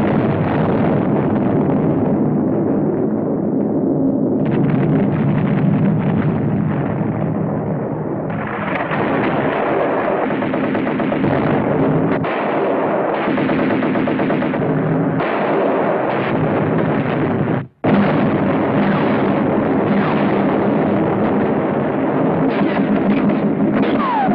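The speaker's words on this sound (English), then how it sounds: "destroyers, and gunboats put out a devastating fire. Gunnery from American ships coupled with precision bombing silenced those guns." Naval gunfire from American destroyers and gunboats, with shellfire and explosions, rolls on as a loud, continuous barrage of booms and blasts, dense and unbroken apart from one brief cut, with no talk.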